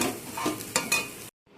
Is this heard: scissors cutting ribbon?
no